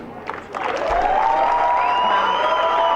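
An audience at a political speech breaks into applause and cheering that builds and then holds steady and loud, with scattered whoops inside a large hall.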